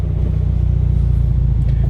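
A Mitsubishi Lancer Evolution IV RS engine rumbles loud and steady while driving, a deep even drone with no pauses.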